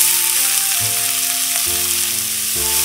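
Two large chopped onions sautéing in oil for butter chicken masala, a loud steady close sizzle with no talking, low musical tones sounding faintly in the background.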